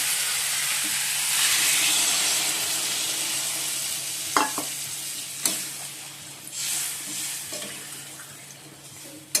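Papaya and potato cooked down with cumin, ginger leaves, coriander and turmeric sizzle and hiss steadily in a pan, with water poured in and a few sharp stirring clinks, close and fairly loud with no talking.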